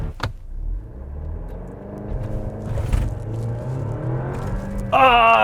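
A 2020 Alfa Romeo Stelvio Ti launches from a brake-boosted start, its engine rumbling and revving up as it accelerates, heard from inside the cabin and ending in a sharp rise in pitch near the close.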